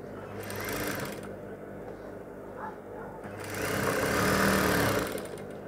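A sewing machine stitching a blouse sleeve runs in two steady whirring bursts separated by a brief quieter pause, close and moderately loud, with no talking.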